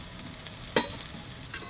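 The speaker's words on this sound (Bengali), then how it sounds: "তেল গরম হয়ে গেছে, এবার বেগুনগুলো ভেজে নেব।" Eggplant slices fry in hot oil with a soft, continuous sizzle, broken by a couple of sharper scrapes and clinks as a spatula stirs them.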